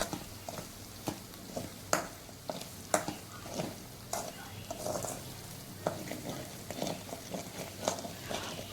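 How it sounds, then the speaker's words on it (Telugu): Ginger garlic paste frying for gongura chicken pickle, a close sizzle broken by repeated sharp scrapes and clacks of a spoon stirring against the pan at an irregular rhythm. "పచ్చి వాసన పోయేంత వరకు మనం ఇలా ఫ్రై చేస్తూ ఉండాలి."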